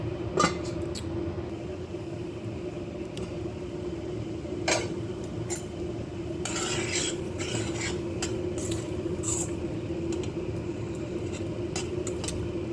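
A lentil and banana flower mixture simmers in a pot with a low steady bubbling hiss. A few scattered clicks and taps come through it, and no one speaks.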